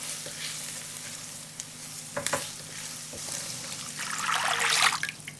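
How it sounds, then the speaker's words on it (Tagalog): Onion and garlic sauté in a hot pan for lumpiang hubad, a steady sizzle broken by scraping stirs that swells into a louder, brighter frying hiss near the end, with no talking. "Maggisa na tayo ng sibuyas."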